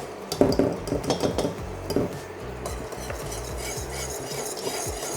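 Whisk beating a traditional roux in a metal pot for blanquette de veau, a quick clattering burst of metallic strokes at first, then softer, steadier whisking over a faint sizzle.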